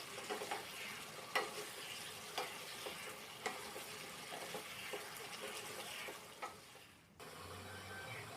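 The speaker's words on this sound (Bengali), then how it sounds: "সোয়াবিনগুলো যে ভেজে রেখেছিলাম সেগুলো দিয়ে দিলাম দিয়ে ওর সঙ্গে একসঙ্গে নাড়াচাড়া করলাম" Fried soybean chunks are stirred in a pan, with a continuous soft sizzle and regular scraping strokes of the spatula; the frying noise cuts off near the end, leaving a quieter low hum.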